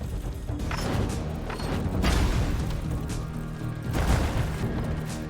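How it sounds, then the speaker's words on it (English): Cannon broadside fire during a naval battle in the game Soulmask, a series of heavy booming blasts and crashing thuds in irregular bursts, loud and close with no speech. "The cannons of the flagship rained down upon us."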